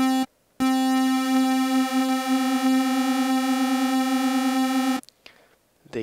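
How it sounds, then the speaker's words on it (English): Massive synth tone with chorus effect and depth modulation: a brief tone, a short gap, then a long sustained harmonic-rich note with gentle wavering shimmer, cutting off into a faint tail. "That is chorus."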